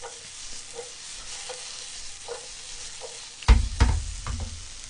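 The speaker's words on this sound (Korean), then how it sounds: "팬이 달궈졌다 싶으면 자, 아까 양파와 파를 볶아줍니다" Onion and green onion stir-frying in a hot oiled pan over high heat, with a soft steady sizzle and a few tapping stirs before louder scraping clatters of a utensil tossing them near the end.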